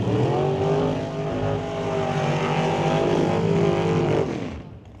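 Drag racing cars in the first round of an NHRA Super Pro event, a loud sustained engine roar with rising harmonic tones, then a quick fade at the end, no talking.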